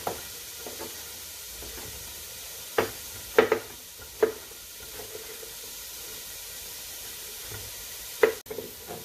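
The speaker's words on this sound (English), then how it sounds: "now I'm sauteing the onion" Chopped onion sautéing in a pan, a soft steady sizzle running throughout with several sharp knocks and clatters from stirring or kitchen handling scattered across it.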